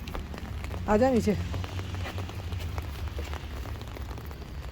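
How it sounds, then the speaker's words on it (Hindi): Rain falls outside a car during a drive to school, a steady soft hiss and patter that continues throughout, while someone speaks briefly near the start over the rain. "बाहर हो रही है बारिश।"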